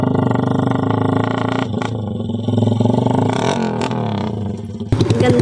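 Motorcycle exhaust tuned for rapid backfire, a loud close engine roar with crackling pops and a sharp burst near the end.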